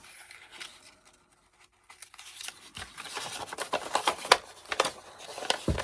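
Scissors cutting straight across paper or fabric during a clipboard makeover craft project, quiet at first, then a run of crisp, irregular snips and rustles close by.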